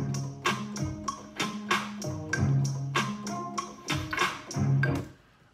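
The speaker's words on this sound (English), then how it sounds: "I'm gonna go and add in a hi-hat" Crisp hi-hat ticks in a steady, simple pattern over a beat with kick and low tones, quiet and evenly spaced.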